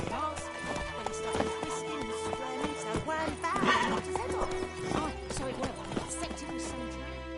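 Roach the horse galloping in The Witcher 3, a rapid, rhythmic clip-clop of hooves close by, broken by a whinny, with voices talking over the gallop.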